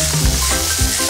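Food frying in a pan inside a camper kitchen, seasoned with salt and pepper, with a steady close sizzle and a few soft stirring or scraping bumps across a short stretch.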